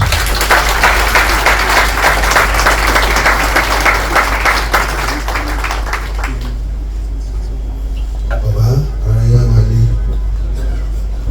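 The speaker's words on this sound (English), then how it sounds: "I want you all to give Baba a resounding round of applause" A birthday celebration audience gives Baba a loud, sustained round of applause that fades out, followed by someone speaking over a microphone in a reverberant hall.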